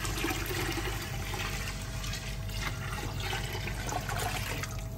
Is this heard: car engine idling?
no